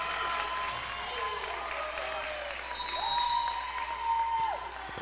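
Crowd and student section at a high school volleyball match applauding and cheering after a point, a steady wash of clapping in a gym with a commentator talking over it.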